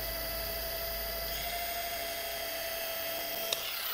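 A rotary car polishing machine spins steadily against a horizontal car body panel, a continuous high-pitched whine with a low motor hum, close and unbroken for the whole stretch.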